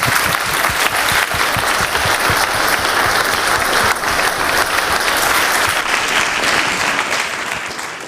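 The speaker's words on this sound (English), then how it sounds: "Let's give him a round of applause." A conference audience claps for several seconds, dense and sustained applause filling the hall before it gradually thins out.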